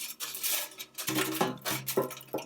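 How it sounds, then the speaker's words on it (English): Cooked food tipped out of a hot IKICH stainless steel air fryer basket onto a plate, with scraping, rattling metal-on-plate contacts and a few sharp clinks, close and moderately loud, no voices. "So I could just dump this out onto my plate"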